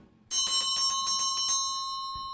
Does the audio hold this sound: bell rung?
yes